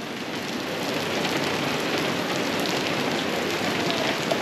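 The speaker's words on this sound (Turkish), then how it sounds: "Abi yağmur yağdığı için buraya saklandık." Heavy rain pours steadily onto surfaces in a Malaysian neighborhood, a dense, even hiss that stays loud and close throughout with no voices.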